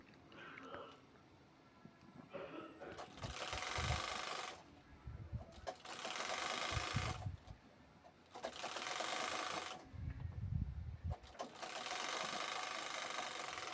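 Electric sewing machine stitching a folded one-inch fabric strip onto a bag made from a blouse piece; three long whirring runs of rapid stitching, close and loud, separated by short quiet pauses.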